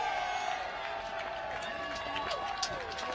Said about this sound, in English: The crowd's now electric in the stand.